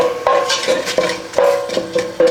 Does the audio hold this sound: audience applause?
no